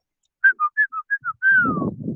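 A person whistles a bird-call imitation of six short, evenly spaced chirped notes followed by one longer falling note, close and clear, with a burst of rustling noise underneath at the end.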